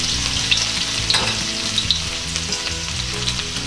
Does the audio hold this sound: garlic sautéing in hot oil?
yes